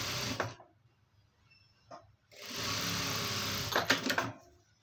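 A sewing machine stitching fabric, running in short bursts: a brief whirr, a tiny tick, then a longer steady mechanical stitching run with rapid clatter near its end, close and clear.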